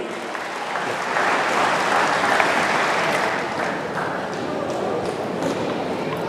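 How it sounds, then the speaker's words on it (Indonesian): Church congregation at a Batak service clapping together, a broad steady wash of applause that swells after the first second and holds loud and dense to the end. "Tepuk tangan matu kita sudah."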